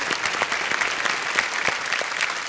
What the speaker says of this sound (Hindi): एक बार फिर तालियां बजाएं इनके लिए